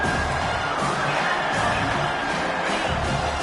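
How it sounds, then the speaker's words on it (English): Home football crowd in a stadium cheering and roaring continuously as the defense faces third down, a dense, loud wash of many voices with scattered whoops. "Here comes this home crowd as the defense tries to get off the field on 3rd down."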